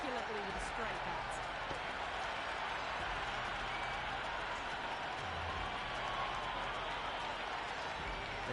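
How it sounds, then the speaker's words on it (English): A large stadium crowd roars, cheers and applauds continuously at a T20 World Cup cricket match between India and South Africa in Ahmedabad, forming a dense, steady wash of noise with no clear break. "The crowd are loving every minute of this match"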